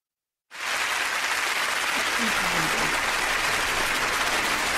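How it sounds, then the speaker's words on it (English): A burst of audience clapping on a radio talk show starts abruptly after a brief silence and holds as a dense, even wash of applause, loud and close, with faint voices underneath. "That's a lot of clapping."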